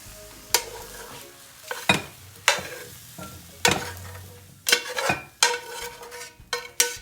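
Eggs cooking in a frying pan for a shrimp breakfast burrito, with a soft sizzle under a series of sharp, close spatula scrapes and stirring knocks against the pan at an irregular pace.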